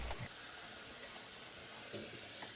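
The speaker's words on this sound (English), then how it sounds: "we're going to rinse our beans 3 times. Wash them and rinse them" Pinto beans rinsed in a bowl of water at the sink, a steady hissing wash of running water with a few soft sloshes and splashes, close and continuous, without speech.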